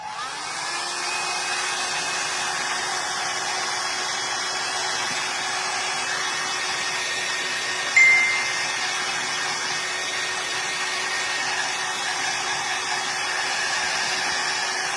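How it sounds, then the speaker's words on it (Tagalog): A hair dryer blows with a steady, loud whine for the whole stretch, a brief bump partway through. "Tapos ay magbo-blower na ako."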